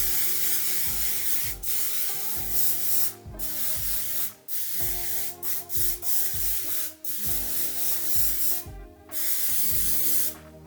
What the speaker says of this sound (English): This is the Colour Wow Extra Mystical Shine Spray,